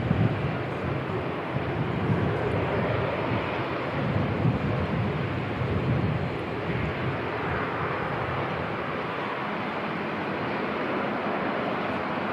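An airliner takes off at Christchurch Airport in New Zealand. Its engines give a steady, broad roar that holds for the whole stretch, with some wind buffeting on the microphone.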